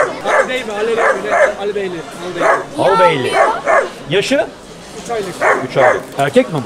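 A three-month-old male Albanian-breed puppy for sale at a bird market yips and barks in short bursts, close and loud, while people talk over it.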